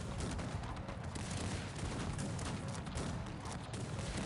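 Massed musket and cannon fire from a Cossacks 3 real-time strategy battle, a dense continuous crackle of distant volleys and booms held at a steady low level with no talk.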